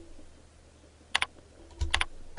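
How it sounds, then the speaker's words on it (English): Typing on a computer keyboard to enter a search term, heard as two quick clusters of crisp, close key clicks over a quiet background. "you can start typing in a keyword or a pattern number or some other description"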